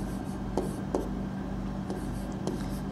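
A marker or chalk writing on a classroom board, faint scratchy strokes in short bursts over a quiet room hum, with no talking over them.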